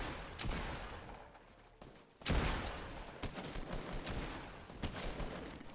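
Repeated gunfire in Fortnite zero-build tournament play as a player shoots through a rock: sharp cracks and rapid bursts spread across several seconds, one loud heavy shot standing out midway, moderately near and without talk.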